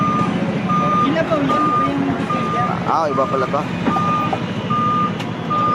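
Truck reversing beeps repeat in a steady on-off pattern at a busy fish port, sounding over constant engine rumble and crowd noise while people talk nearby.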